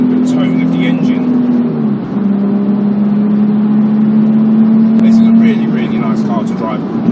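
Inside a Nissan 350Z, the 3.5-litre V6 holds a steady drone under light, feathered throttle as the revs build slowly, with a person talking over it and brief clicks near the end.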